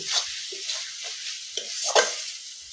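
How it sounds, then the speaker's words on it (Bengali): Ground cumin and dried chilli paste frying in a pan for a mushroom curry, a soft sizzle with a series of scraping stirs every half second or so, close and alone. "এখন মশলাটাকে ভালো করে কষাকষি করে নেব"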